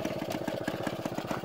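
A Chappy 50 motorcycle engine runs at a steady idle after being kick-started, its close, rapid, even putter filling the moment with no talk over it.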